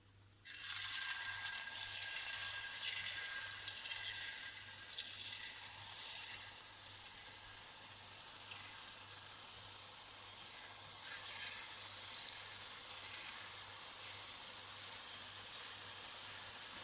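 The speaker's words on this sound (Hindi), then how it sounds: "तो अब जलेबियों का शीरा तेल में शामिल करेंगे।" Jalebi batter poured into hot oil, sizzling and crackling loudly and steadily from the start, a dense close frying hiss that runs on without pause.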